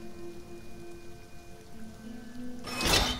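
Steady rain patters as a soft, continuous hiss in the video game Sheltered, with faint tones underneath, ending in a brighter, louder splash of noise.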